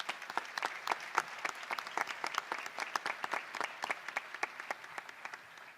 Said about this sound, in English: Please give him another round of applause to our board members.